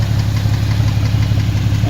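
An engine runs steadily with a knocking noise, a loud continuous low drone with a regular pulsing beat and no talk.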